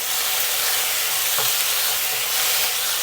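Oyster sauce, dark soy sauce and black bean paste are stirred into a chicken, mushroom, onion and tofu stew. A constant, loud sizzle and hiss runs throughout, with a faint scrape of stirring in the middle.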